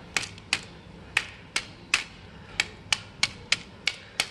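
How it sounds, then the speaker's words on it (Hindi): A pestle strikes rose hip seeds inside a zip bag, giving about a dozen sharp, fairly evenly spaced cracking taps, close up and alone with no talking. "इस मूसल की हेल्प से तोड़ दूँगी"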